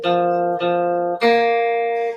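Two sustained electronic-sounding tones in sequence, the lower repeated, then a higher one a fourth above, held steadily and clearly.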